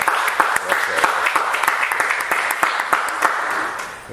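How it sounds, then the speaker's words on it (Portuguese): Applause from a small audience closing a Portuguese academic talk on monarchies and republics in Europe, dense steady clapping that runs the whole stretch with faint voices mixed in. "se juntassem a mim num aplauso final hoje."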